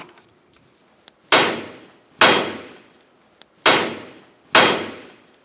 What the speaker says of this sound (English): you're going to take a sledgehammer and you're going to hit right here, and that's going to pop the tie rod out